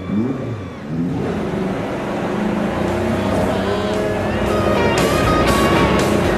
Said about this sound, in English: you can hear the engines firing